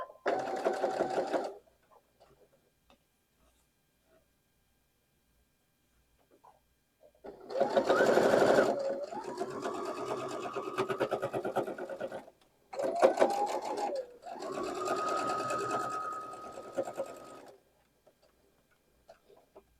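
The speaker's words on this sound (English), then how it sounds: "let's go sew these together" A sewing machine stitches quilt block rows together for a Dutchman Puzzle block in several bursts of rapid mechanical whirring, each lasting a few seconds, separated by silent pauses, close and clear.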